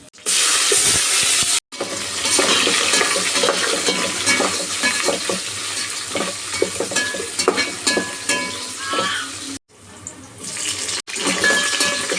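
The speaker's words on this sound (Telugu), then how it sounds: "అయితే ఫ్రై అవ్వాలి ఆనియన్స్ జీడిపప్పు కూడా ఆ కలర్లో వచ్చేసింది" Onions and cashews fry in a pan for mutton biryani, a loud, busy crackling sizzle with frequent stirring scrapes and clatter, broken by a few brief dropouts, and no one speaks.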